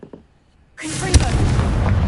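A Confringo spell in the Hogwarts Legacy video game bursts after a brief quiet moment, a single sharp blast that settles into a sustained loud crackling rumble close up.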